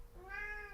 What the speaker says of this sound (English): I hear a cat under the table.